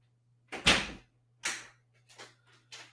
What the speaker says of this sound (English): I'm just going to lock the door